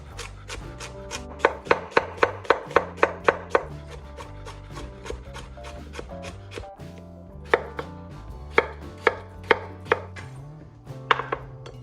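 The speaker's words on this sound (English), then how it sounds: "start this recipe by dicing the celery, onions, carrots, potatoes," A knife dicing celery, onions, carrots and potatoes on a board: quick, crisp, evenly spaced chops in close bursts, pausing briefly before another run of rhythmic cuts.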